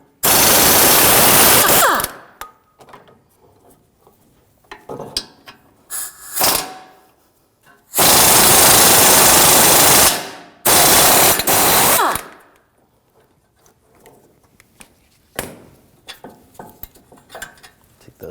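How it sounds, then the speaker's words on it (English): Pneumatic impact wrench with a 21mm socket zipping out the front brake caliper bracket bolts on a 2006-2009 Audi S4 4.2L V8, loud buzzing bursts of a few seconds each separated by quieter garage gaps. "Now use a 21mm socket, take these bolts out."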